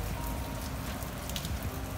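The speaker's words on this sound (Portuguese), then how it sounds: "Tá chovendo muito" Heavy rain in Bariloche, a dense steady hiss of drops falling continuously with no voices.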